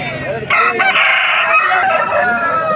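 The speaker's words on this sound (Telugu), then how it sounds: "గట్టి కలిగినటువంటి కోడిపుంజు" A rooster crows loudly and close by at a poultry market in Vijayawada, a long strained call that holds for about two seconds before tapering off.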